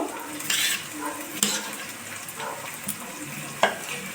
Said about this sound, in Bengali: ডিম ভাজার তেলেতে পেঁয়াজটা ভাজা বসিয়ে দিয়েছি